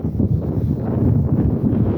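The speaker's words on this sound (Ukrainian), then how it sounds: "І вітер дує, західний вітер" Continuous low west wind rumble buffets the microphone outdoors by fields, a dense, steady roar with no pauses, close and fairly loud.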